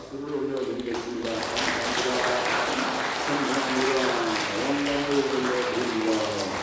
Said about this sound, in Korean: 감사와 찬송과 영광의 박수를 올려드리겠습니다.